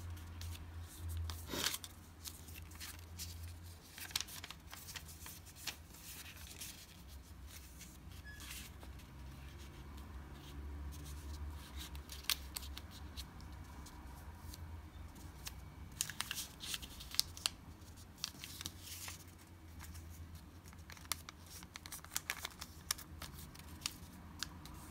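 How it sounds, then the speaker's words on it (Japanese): Origami paper being folded into a pumpkin, with quiet crinkles, creases and soft rustles of handled paper, close and faint, in intermittent bursts with no talk. "裏返して裏も同じように折ります。"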